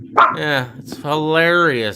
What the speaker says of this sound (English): that was my dog talking